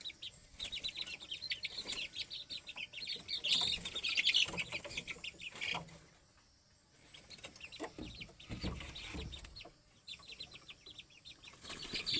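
Gamecock crossbred with jungle fowl clucking among other fowl, with busy fluttering and soft clucks close by at a steady moderate level that dips briefly before resuming.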